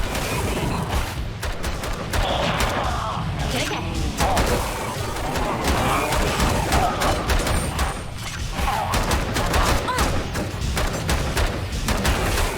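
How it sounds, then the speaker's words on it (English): Gunfire aimed at the player in the video game Bunker Punks, dense rapid shots and crashing impacts crackling without a break over a busy game soundscape, loud and close throughout. "Who's shooting me?"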